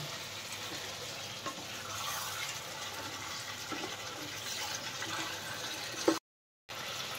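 Chicken curry meat frying in a pan while being stirred, a steady soft sizzle with occasional scraping clinks of the spoon, then a brief cut to silence near the end; no one speaks.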